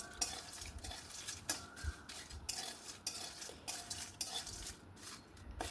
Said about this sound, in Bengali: আরও খানিকক্ষণ নাড়াচাড়া করে নেব